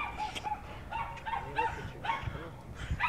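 A dog yips and barks in short bursts several times, fairly close, with some faint background noise between the calls.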